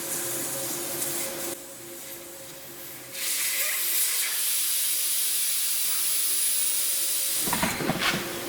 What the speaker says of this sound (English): I'm going to go ahead and air down this tire